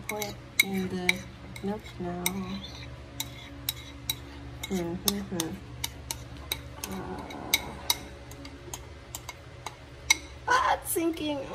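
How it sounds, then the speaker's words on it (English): A spoon clinks and scrapes against a cup while stirring a thick Dalgona chocolate drink made with Hershey's cocoa and whipping cream, sharp repeated ticks throughout with someone talking intermittently over them. "This is so hard to stir."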